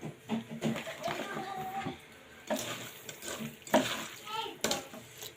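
Tengra catfish going into a pan and frying, with a soft sizzle broken by several clattering stirs and scrapes, fairly close and moderately loud.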